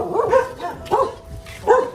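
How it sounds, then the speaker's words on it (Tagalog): Three sharp dog barks, evenly spaced and nearby, with quiet background noise in between. "Dito pa lang ako nakarinig na aso na tumahol."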